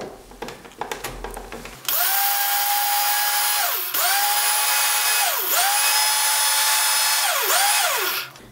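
An electric mixer grinder whirs loudly, grinding ingredients into powder in several long runs. Its steady high whine dips briefly between bursts, after some clattering as it starts.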